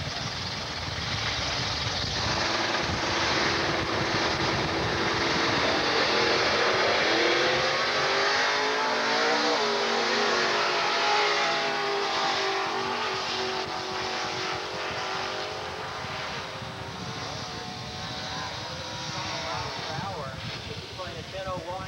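A lowrider Chevelle runs at a 1990 Division 4 drag race at Texas Motorplex. The engine holds a loud, sustained roar that rises and swells, with an announcer talking over it.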